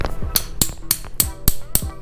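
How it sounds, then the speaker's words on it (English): Six sharp metallic taps from a ratchet used as a hammer strike at an even rhythm, close and loud with no talk, while fitting a sway bar on a Can-Am Ryker. "Don't use your ratchet as a hammer."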